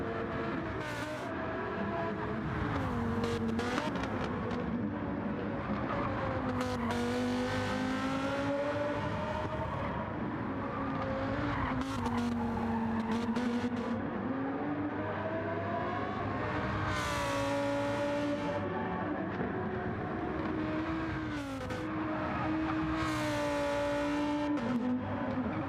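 Race cars in Gran Turismo 7 on the Deep Forest circuit, a continuous loud engine roar with pitches rising and falling as the cars accelerate, shift and brake, several engines overlapping without a pause.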